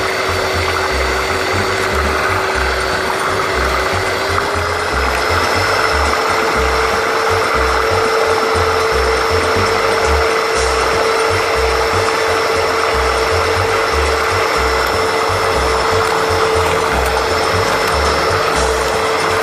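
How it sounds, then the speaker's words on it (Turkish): An electric hand mixer whirs steadily while whisking tripe soup, a continuous motor whine with a rattling, ratcheting churn running unbroken throughout. "İyice çırpmamız lazım. Yani kesik kesik olmaması iyice, iyice çırpmamız lazım."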